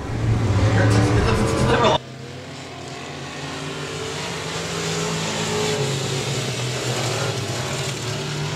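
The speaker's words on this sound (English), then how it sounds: "coming to the checkered flag this time by the driver of the Livingston truck number J3, Jimbo" A race car engine roars at a dirt speedway event at Timberline Speedway as the driver of the Livingston truck number J3 takes the checkered flag, a loud sustained drone under crowd noise and an announcer's voice.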